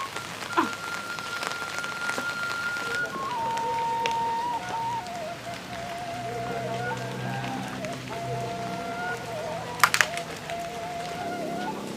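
Rain falls steadily on a surface as a constant hiss, with a thin melodic tone running over it and a couple of brief louder knocks near the end.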